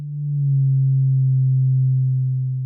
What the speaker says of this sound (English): I'm going to take the sine wave out of our spectrum and instead take it out of that algorithm in the Disting